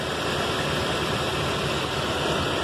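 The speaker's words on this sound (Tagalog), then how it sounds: "Mandar na, palyado nga lang." A 2012 Toyota Hilux engine runs rough and misfires after a crank-no-start fault, giving a steady, dense, close mechanical drone that carries on unbroken and alone, with no voices.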